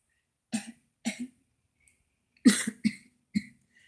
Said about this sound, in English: I got this little cough and it's just like bugging me